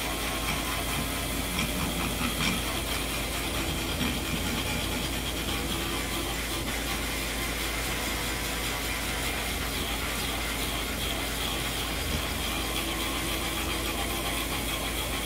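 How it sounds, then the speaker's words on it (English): A small sandpaper roll sands the bore of an LS 5.3 drive-by-cable throttle body during porting, a steady, continuous abrasive grinding with a faint mechanical knock, constant and close. "you could do it this way if you wanted to with a smaller sandpaper roll"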